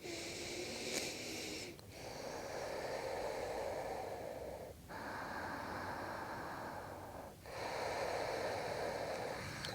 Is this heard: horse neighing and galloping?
no